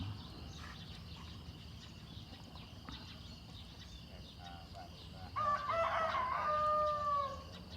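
A rooster perched on a village rooftop in Chaiyaphum, Thailand, lets out one long crow during a morning alms-giving, rising clearly over a low, steady outdoor background after several quiet seconds.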